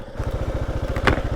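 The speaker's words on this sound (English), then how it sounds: "I never shut the engine off." A vehicle engine left running at idle, its low pulsing throb repeating in a steady, even rhythm close by, with a brief rattle partway through.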